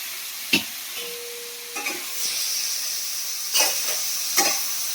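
Soybean chunks frying in oil for a bottle gourd curry, a steady hiss of sizzling with several sharp crackles and stirring clatters spread through, close by and moderate in level, no talk.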